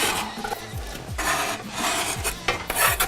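Meatballs and sausage dropped and shifted into a pot of tomato sauce in a home kitchen, with close scraping, rubbing and knocking of a utensil against the pot in uneven strokes, no talking.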